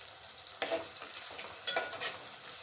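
Onions frying in a pan as the base for a fish curry make a soft, low sizzle with a few brief stirring scrapes, fairly quiet and close, with no one speaking.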